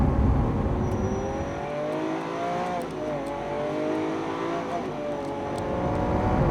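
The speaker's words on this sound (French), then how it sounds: "Ce moteur, c'est une caricature, ça donne l'impression de cracher du feu, c'est hallucinant." A Lamborghini Aventador SV's rear-mounted V12 revs loudly and steadily up close, its pitch climbing and dipping through continuous engine roar with no talking.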